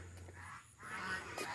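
Village geese honk twice near the start and end, fairly faint and distant against an open outdoor ambience.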